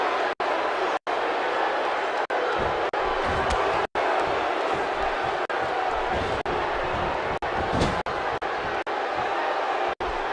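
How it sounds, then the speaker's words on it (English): Wrestling arena crowd in the WWE 2K16 video game, a loud sustained roar with thumps and slams from the ring, running under commentary with brief audio dropouts. "by the sound of this crowd, I think they're getting what they wanted"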